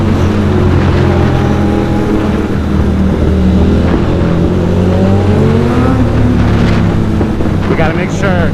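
A motorcycle engine roars loud and close on a ride from Brooklyn toward Times Square, its pitch climbing and falling as it pulls hard, heavy wind buffeting the microphone throughout.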